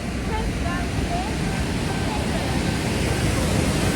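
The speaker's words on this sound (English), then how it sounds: "So crazy waterfall" Roar of a large waterfall near Paterson, New York, a steady loud broadband wash of falling water filling the whole clip without pause.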